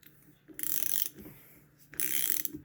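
Two bursts of rapid ratchet clicking as the crank bolt is tightened on a Honda XR100 engine during a bottom-end rebuild, close and crisp, separated by a brief, quieter pause.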